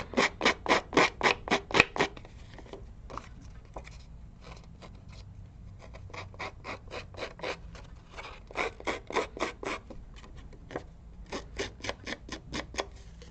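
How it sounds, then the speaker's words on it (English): Scissor edge scraped repeatedly across paper in card making, fast rhythmic rasping strokes in bursts separated by short pauses, close and fairly loud with no talking. "you can do the same thing with the edge of your scissors. And we're just going to rough this up."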